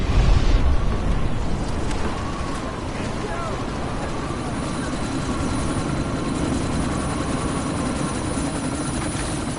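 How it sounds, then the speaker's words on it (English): Helicopter in the Deus Ex: Mankind Divided video game during a sandstorm, its rotor a loud continuous whirring drone with a heavy thump at the start, voices talking over it. "this sandstorm might have just bought us some time, but you need to disable that chopper"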